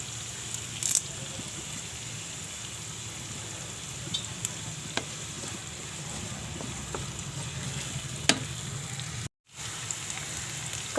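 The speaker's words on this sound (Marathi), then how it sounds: "कांदा फ्राय झाला आहे." Onion and curry leaves frying in oil for rava upma, giving a steady, fairly quiet sizzle with a few faint clicks and a brief dropout near the end.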